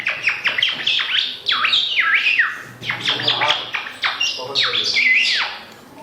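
A boy imitates a bird's chirping with his voice, a run of rapid, high warbling whistles and squeaky trills in quick bursts, fairly close and loud, with brief pauses between phrases.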